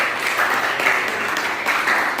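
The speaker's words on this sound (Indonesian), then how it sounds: "Tepuk tangan untuk kelompok 1." A classroom group applauds after a student presentation, a steady wash of clapping from many hands that holds at an even, moderately loud level for the whole stretch.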